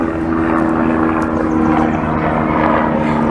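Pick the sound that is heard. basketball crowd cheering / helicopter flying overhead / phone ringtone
helicopter flying overhead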